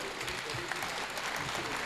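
An audience at a kavi sammelan held for a guru's birth anniversary applauds with dense, continuous clapping at moderate volume that holds steady through the brief moment.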